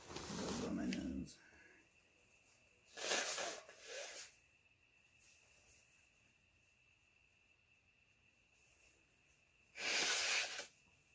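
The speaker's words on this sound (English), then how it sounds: "I'm gonna blow my nose" A person blows their nose in a few short, breathy honks, one right at the start, another pair a little later and a last one near the end, set against a faint steady whine in a quiet room.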